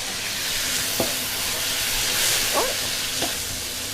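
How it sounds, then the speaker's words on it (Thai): Steady sizzle of chicken and rice stir-frying in oil in a pan, with a few sharp clinks of a utensil scraping and stirring, fairly close. "พอคั่วให้ข้าวหอมกับน้ำมันแบบนี้เราเหยาะน้ำซุปลงไปนะคะ"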